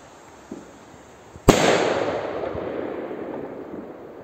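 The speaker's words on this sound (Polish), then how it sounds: "może huk nie był mocniejszy i może rakieta nie wydawała się potężniejsza" After a faint pop, a single loud firework rocket bang cracks sharply on a cold night outdoors, followed by a long crackling, hissing tail that slowly fades.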